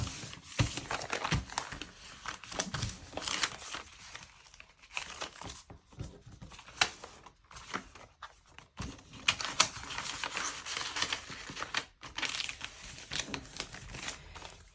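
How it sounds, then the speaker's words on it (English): A sheet of paper is folded down to fit an envelope, giving close crinkling, creasing and rustling in irregular bursts with short pauses between them. "Fold a piece of paper down to fit in this envelope."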